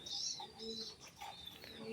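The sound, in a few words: angry pigeon cooing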